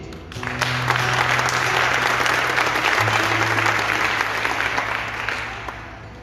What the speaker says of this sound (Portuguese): É ou não é para aplaudir?